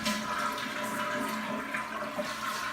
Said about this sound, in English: Obviously, the first is just to make sure that the toilet flushes.